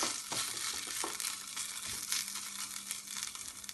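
Vegetables sautéing lightly in a pot for a baby's soup, a steady close sizzle and crackle with a few soft stirring scrapes, no talking.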